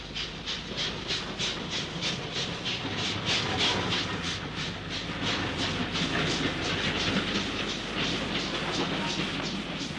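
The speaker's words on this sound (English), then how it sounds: "The next working along the up-fast line is hauled by another member of this class." Locomotive-hauled train running past on the up-fast line, a rapid, even clickety-clack of wheels over rail joints under a steady rolling roar, moderately loud and close throughout.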